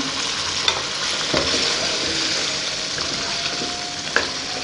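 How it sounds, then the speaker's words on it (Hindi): Beef frying in cooking oil, a close, continuous sizzle with occasional spatula scrapes and stirring knocks against the pan. "यहाँ पे मैं ऐड कर दूँगी कुकिंग ऑयल। अच्छे से भुनाई कर देंगे इसकी।"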